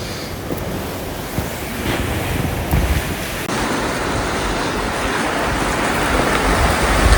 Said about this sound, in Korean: 바람이 엄청 차갑다.